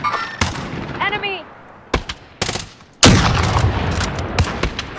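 Gunfire in Call of Duty Warzone: a few sharp, close single shots crack out in quick succession, followed by a sustained burst of rapid fire, with a brief voice-like sound between shots.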